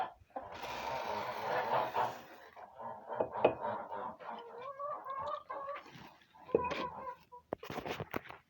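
A small farmyard flock of hens with a rooster clucks close by, giving a continuous run of uneven clucks and short squawking bursts, loudest near the start and again toward the end.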